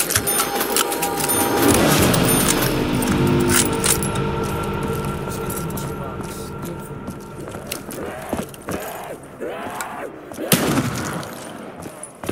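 A ray gun fires in a Minecraft Black Ops 3 zombies mod custom map, giving a dense burst of sharp, zapping electronic shots early on, followed by a few separate blasts amid game sounds and a voice.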